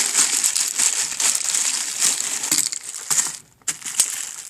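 A Ziploc plastic bag is handled and squeezed, giving bursts of bright crinkling and crumpling up close, with a short pause before a few final rustles.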